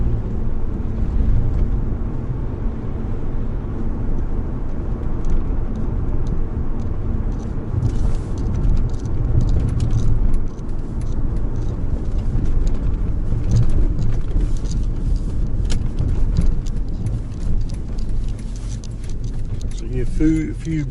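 A Mercedes E55 rolls over speed humps, a low, loud engine and road rumble with occasional knocks and rattles from the cabin, continuous for around twenty seconds.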